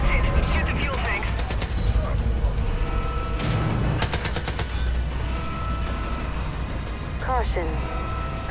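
Bursts of automatic gunfire aimed at fuel tanks in the Far Cry 5 video game, sharp rattling volleys near 1 and 4 seconds over a steady rumble, with chirpy synthetic effects and game voices in between.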